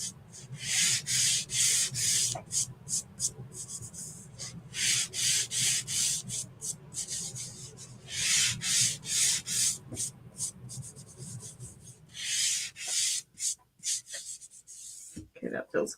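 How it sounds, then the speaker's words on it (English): Light hand sanding on a wooden 14-inch stenciled door round, producing repeated bursts of soft, near scratchy rubbing in an uneven back-and-forth rhythm, with brief pauses between strokes. "Just very lightly sanding."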